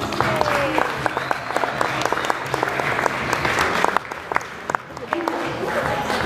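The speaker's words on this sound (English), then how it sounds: "give them one more big round of applause." Wedding guests giving the couple a long, steady round of applause at the reception, dense clapping that fills the room with some voices and cheers mixed in.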